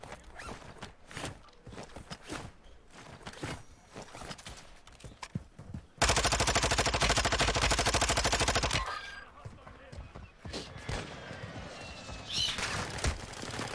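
A video game shootout crackles with sporadic gunshots, then a dense sustained burst of rapid automatic fire for about three seconds, followed by scattered shots, clattering footsteps and movement noises.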